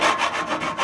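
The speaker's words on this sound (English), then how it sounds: "Now grab a file, file the edges. Just take off any of those burrs." Hand file rasping across cut metal edges to remove burrs, during fitting of a sun visor on a Toyota 75 Series Landcruiser; close, steady back-and-forth strokes with no talking.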